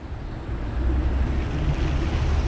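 A mountain river rushes in a continuous broadband wash, steady and fairly close, with some wind buffeting the microphone and no one speaking.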